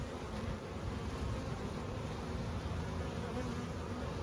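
Steady, dense buzzing of many honey bees in a Layens hive at close range, a continuous low hum with no voices.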